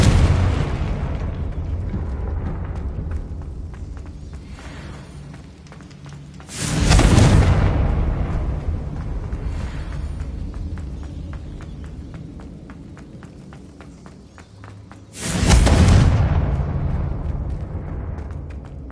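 Two Confringo fire spell blasts in Hogwarts Legacy, each a loud, sudden booming explosion with a long rumbling decay, about eight seconds apart over a low ambient background.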